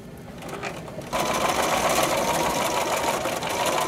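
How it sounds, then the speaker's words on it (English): A sewing machine stitches a side seam on a small St Patrick's Day treat bag, its steady motor whir starting softly, then turning louder and continuous after about a second with no talking. "So thread your machine with matching color thread, and first just sew a seam"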